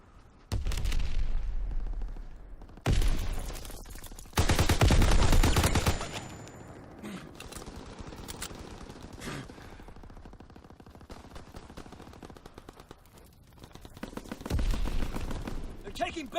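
Bursts of rapid automatic gunfire and single shots ring out in Call of Duty WW2 multiplayer Domination, loud clustered volleys broken by quieter stretches with game voice callouts.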